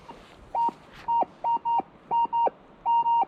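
A metal detector gives short, clear electronic beeps while searching for relics at a Bronze Age site, with about nine brief tones in an uneven, paired rhythm over quiet outdoor background.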